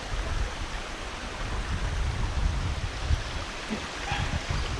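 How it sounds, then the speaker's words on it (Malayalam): A small forest stream near the Pathrakkadavu waterfall rushes in a steady, continuous wash of flowing water with no voices. "പുഴയല്ല ഒരു തോട് അരുവി"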